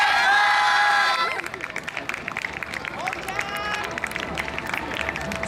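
A crowd cheers at the Kasuya yosakoi dance festival, 2016. A loud voice calls out at first, then a broad roar of cheering and scattered shouts carries on steadily.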